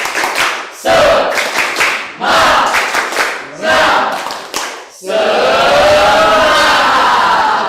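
A group in a class performs a tepuk semangat spirit clap, several bursts of loud rhythmic clapping with shouted chants in between, ending in a sustained cheer.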